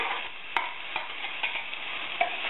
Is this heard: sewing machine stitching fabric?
no